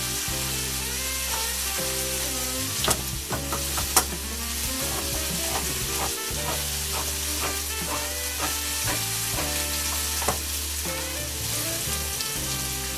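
Chicken and canned corn sizzle loudly and steadily in a frying pan, while a spatula stirs and scrapes with intermittent clacks and no one speaks.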